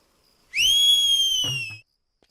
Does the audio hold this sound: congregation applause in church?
no